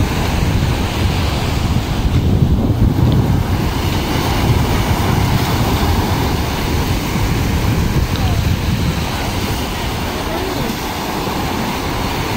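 Heavy surf crashes and roars without pause during a typhoon, mixed with strong wind buffeting the microphone, a rough, stormy sea.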